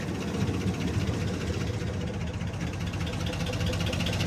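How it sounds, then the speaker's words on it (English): A truck engine runs steadily with a dense, gritty drone and a faint abnormal rattling undertone, hot after driving, loud and close, with no voices. "There's the engine noise, but it's weird."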